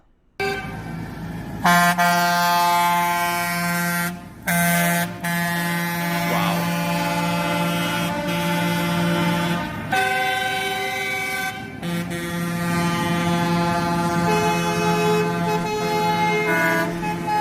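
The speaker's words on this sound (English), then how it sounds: "I love the sound of honking." Loud, sustained vehicle horns honk continuously, several overlapping tones blaring together with brief breaks, like a crowd of trucks and cars leaning on their horns, during a farmer protest convoy entering Berlin.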